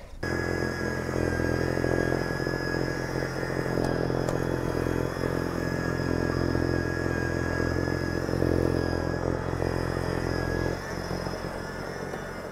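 Electric EGO snow blower churning through heavy wet snow, giving a steady, close motor whine and hum with a high tonal drone, running continuously with a slight drop near the end and no talk.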